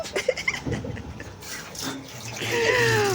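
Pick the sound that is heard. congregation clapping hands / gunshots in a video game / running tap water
running tap water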